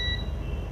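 A digital multimeter gives a short, high continuity beep while probing the board of a Redmi 9A phone with a no-light, no-display fault; the tone cuts off quickly and leaves a faint hum.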